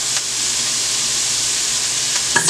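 Onions and garlic sauté in a pan for smothered Bajan-style pork chops, giving a steady, close sizzle that holds evenly throughout, with a few soft clinks of stirring near the end.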